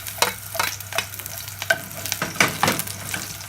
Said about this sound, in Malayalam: ചൂടായ പാനിലേക്ക് 2 ടേബിൾ സ്പൂൺ വെളിച്ചെണ്ണ ഒഴിച്ചു കൊടുക്കുകയാണ്. ഇതിലേക്ക് എടുത്തു വെച്ചിരിക്കുന്ന വെളുത്തുള്ളി ഇട്ട് കൊടുക്കുകയാണ്.